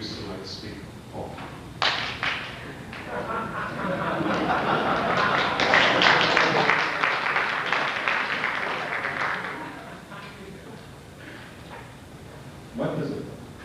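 An audience applauds at an evening lecture on design education. Clapping swells to a sustained loud peak and then fades, with a few thuds and voices before and after.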